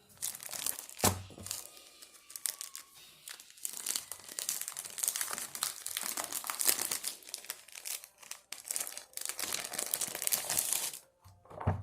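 Crinkling of a resealable plastic comic bag being opened, with dense irregular crackles and rustles continuing almost without pause, close and fairly quiet, no talking.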